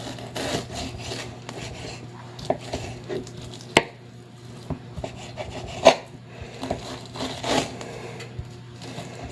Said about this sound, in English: I'm just gonna cut them in slices